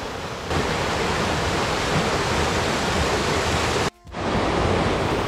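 A mountain valley stream flows in a continuous, loud, close rush of water with a brief dip near the end, no voices.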